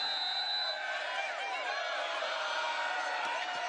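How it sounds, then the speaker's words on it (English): A stadium crowd at a Legends Football League game in Australia, Queensland Brigade against New South Wales Surge, keeps up a dense, steady roar with chanting voices merging into a loud, continuous wash of sound. "The crowd is starting to chant."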